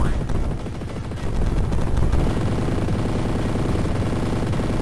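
Rapid-fire weapon shooting in the Jazz Jackrabbit game, a loud, dense, continuous stream of quick repeated shots with no pauses.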